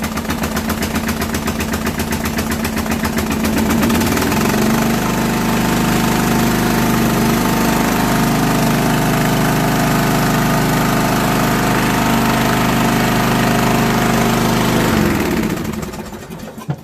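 A Toro Wheel Horse 12HP 38XL lawn tractor engine cranks and then runs steadily and loudly close by, a rough continuous drone that holds for over ten seconds before cutting off near the end.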